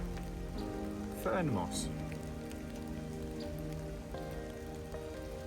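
Steady, soft rain falls through a winter forest at a no-tent camp, a gentle, even hiss, with a few faint drips and a brief spoken voice.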